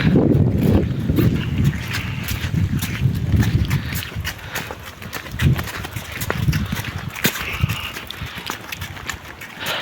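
Horse hooves clip-clop at an uneven pace during a ride in the Carpathian foothills, close to the microphone, with steady wind noise on the mic throughout.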